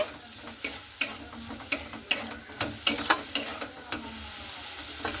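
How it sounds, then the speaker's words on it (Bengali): Kharkol stems seasoned with salt and turmeric being stirred in a hot pan, with a steady sizzle under a run of sharp, irregular scraping and clattering strokes of the spoon, close and fairly loud. "পরে আবারও খুব ভালো মতো করে একটু নাড়াচাড়া করে নিচ্ছি"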